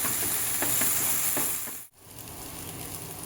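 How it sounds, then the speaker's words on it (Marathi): Ground masala paste frying in hot oil gives a steady, loud, close sizzle with faint stirring scrapes, briefly dipping before the crackle picks up again. "तेलामध्ये आपण छानपैकी हे वाटण परतून घेणार आहोत।"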